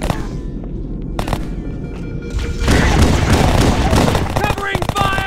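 Gunfire in Halo Custom Edition keeps going throughout: sharp, rapid shots and booming blasts layered over a dense roar of combat noise, with voices faintly mixed in.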